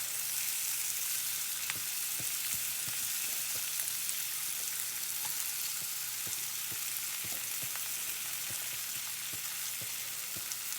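Apple slices fry in a pan for a cheesy apple pie omelette, giving a steady, close sizzle with small scattered pops and crackles throughout and no talking.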